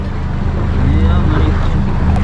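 A 40-metre mega yacht running at full throttle, heavy broadband engine and hull rumble with rushing water and wind noise, steady and loud throughout, with faint voices underneath.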